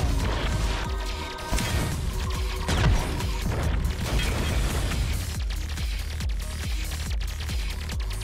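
A bomb detonating in the arcade shooter Resogun, a dense crashing boom amid a constant wash of loud game effects, explosions and booms.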